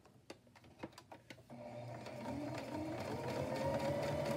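A sewing machine zigzag-stitches a clear plastic pocket, starting with a few separate taps and clicks and then running into a steady, rising mechanical whir close by.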